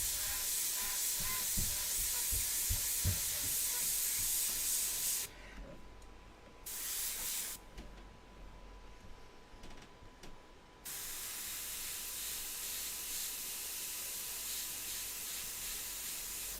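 Airbrush spraying paint on a winter-scene portrait of a woman, a steady broadband hiss that cuts out twice for a second or two between bursts, then resumes at even strength.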